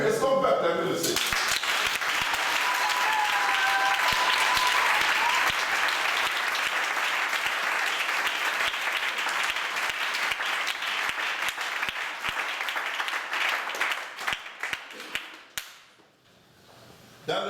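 A church congregation bursts into loud, sustained applause for the Lord. The clapping fills the space and holds steady for many seconds, then thins into scattered claps and fades out, with voices briefly heard at the start.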